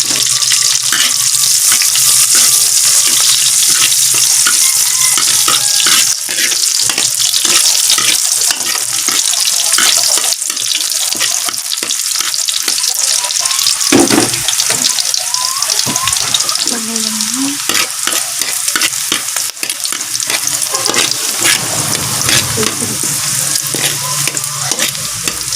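Pork sizzles loudly in a frying pan while cooking adobo until golden brown, a dense continuous crackle with occasional stirring scrapes and brief voices in the background.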